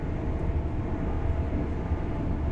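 Simulated train in Train Sim World 5 running far over the speed limit, giving a steady droning rumble with a strange Doppler-like hum, continuous and fairly loud with no voices.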